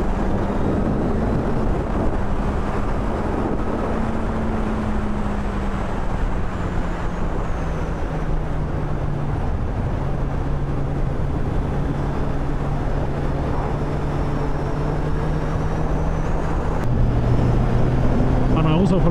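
Steady wind buffeting the microphone during a ride on a 2016 Kawasaki Z800 motorcycle on a windy day, a constant loud rumble mixed with the low engine drone and continuing throughout.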